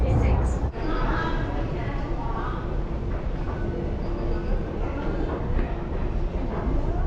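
A Beijing subway train rumbles steadily throughout, with a dense low roar and faint rattling, while people talk indistinctly nearby over the noise.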